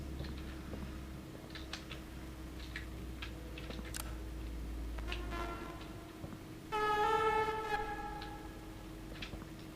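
Train sounds in the Poppy Playtime game station, with a steady low hum and scattered mechanical ticks before a loud, sustained horn-like tone blares near the end.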